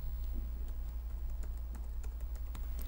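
Typing a password on a computer keyboard, a quick irregular run of light key clicks heard close up over a steady low electrical hum, with no speech.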